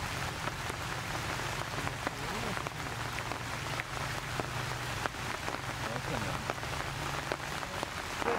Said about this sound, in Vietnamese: Trời nó mưa to quá anh em này.